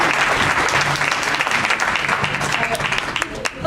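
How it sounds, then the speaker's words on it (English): Audience applause at a convention, steady close clapping from a crowd lasting throughout and tapering slightly at the end. "so please give her a round of applause."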